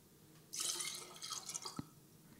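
Cold vodka from the fridge poured for a Swedish Mumma drink: a short, steady splashing pour of about a second, ending in a small drip and clink, close and alone.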